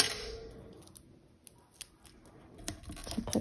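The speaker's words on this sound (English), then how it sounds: "I'm going to cut this little foam square in half" Scissors snip through a small foam square during a paper-craft mini album project, a few sharp close snips spaced out over a soft background hiss.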